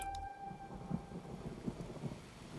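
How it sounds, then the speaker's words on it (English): Soft, steady rain hisses with low thunder rumbling underneath, a few deeper thumps rising briefly; a faint tone fades early on. "Here comes the rain."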